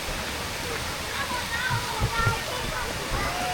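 Fountain water in a castle garden cascades onto a walkway with a steady outdoor splashing rush, while faint voices and activity from people nearby carry over the top.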